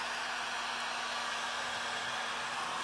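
A hair dryer blowing on a freshly painted thrift-store tray, giving a constant, even whooshing roar with a steady hum and no talking.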